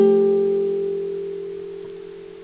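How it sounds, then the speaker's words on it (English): A single acoustic guitar string pattern picked with three fingers on the high strings, one clear plucked chord ringing out and slowly decaying alone. "You can either do the standard finger picking with 3 fingers, one on each of the high strings"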